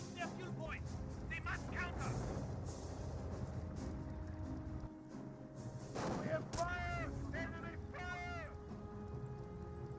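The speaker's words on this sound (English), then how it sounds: "Getting hit a little bit there by the rifle grenades." Rifle grenade blasts and gunfire in a Company of Heroes 1 battle between British and Wehrmacht forces, a continuous rumbling barrage with sporadic sharp explosions, heard beneath steady commentary.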